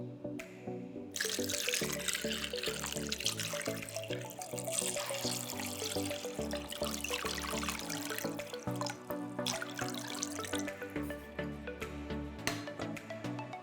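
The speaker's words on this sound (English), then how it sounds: "fill it up with water." Tap water runs steadily into a bowl of cubed tofu, a continuous close splashing and trickling fill with changing pitch as the level rises, with soft clinks in the background.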